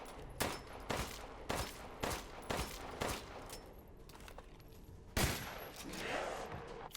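Gunfire in Resident Evil Village: a run of sharp shots at roughly even half-second intervals, then a gap and a louder blast with a decaying tail, fairly close in a game mix.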